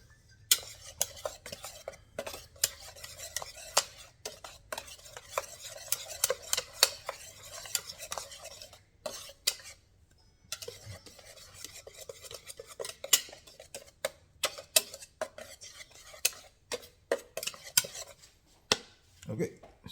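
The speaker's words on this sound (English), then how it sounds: "now we're gonna mix everything up in there" Seasoned flour mixture stirred in a bowl with a utensil, a long run of quick scraping and clinking strokes in uneven bursts, close and moderately loud, with one brief pause midway.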